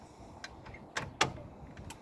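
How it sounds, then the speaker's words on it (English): Canal boat door opened and pinned back, a few quiet close knocks and metallic clicks of latch and pin in a calm interior, with short gaps between them. "we open this door and pin this one back as well for the same reason"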